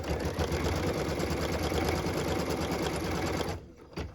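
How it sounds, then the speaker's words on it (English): An embroidery machine stitches a tack-down line through taped fabric pieces in a hoop for a Christmas tree ornament, a close, fast, even needle chatter running continuously before stopping abruptly, followed by a few faint clicks. "What we're stitching now is the tack down line for piece number 5 in our project."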